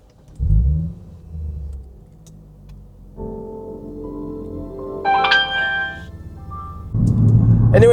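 Lexus IS350 pulling away: a door thump and low engine rumble, then a rising rev with tonal whine as it drives off, closing in a louder broadband roar, no talk.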